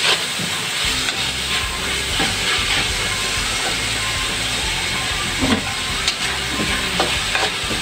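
Meat being sautéed in a pan for lumpiang hubad, a dense, close sizzle and steamy hiss with scattered stirring scrapes and pops, steady throughout with no talk.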